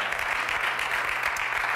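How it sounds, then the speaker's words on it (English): A short burst of steady applause from a crowd, dense and continuous throughout. "And it's okay to clap."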